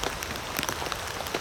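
Steady, dense rain pattering on a camping tarp outdoors in the UK, a close continuous hiss of drops with scattered louder taps and no voices.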